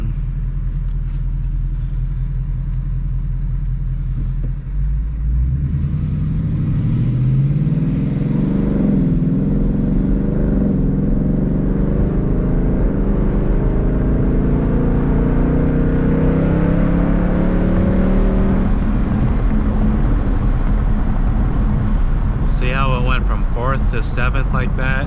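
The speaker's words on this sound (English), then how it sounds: "so you guys can just appreciate this exhaust note a little bit" A Stage 3 Roush Mustang engine rumbles at a lopey idle, then revs and accelerates with rising, throaty exhaust tones through several gear pulls, loud and close.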